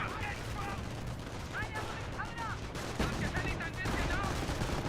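Bursts of gunfire in a Company of Heroes battle strike a StuG assault gun, crackling rattles and fusillades of varied loudness running throughout while a voice talks over them.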